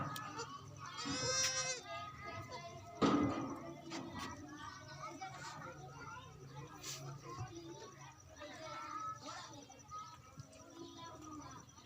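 Baby goats bleating, several high cries scattered through the stretch alongside shuffling farm noise, with people talking quietly underneath.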